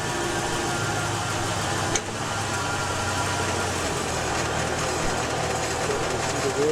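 A Chevy Silverado with a shifting problem runs in drive with its wheels spinning, a steady close engine hum with a faint mechanical vibration throughout.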